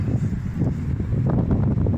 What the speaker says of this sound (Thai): รีวิวกันที่ริมทะเลนะครับพร้อมกับ ลมเย็นๆสบาย